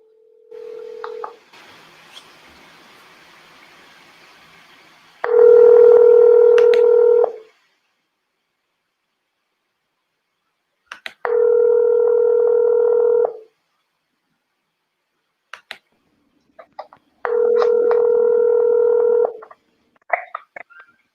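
Three long steady telephone dialing tones sound while calling boxer Bermane Stiverne, each lasting about two seconds with silent gaps between, loud and clear, with brief faint clicks and noise in the pauses and no talk.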